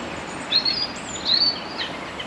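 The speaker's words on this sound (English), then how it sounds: "The birds are going bonkers." Small birds chirp and trill in short high phrases beside a canal at Worsley Delph, fairly faint over a quiet outdoor hush with no talking.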